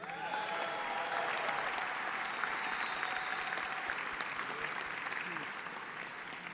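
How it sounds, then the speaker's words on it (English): A crowd applauds the Cavaliers at a live auction, with sustained, fairly quiet clapping and faint crowd murmur and voices mixed underneath. "How about a round of applause for the Cavaliers?"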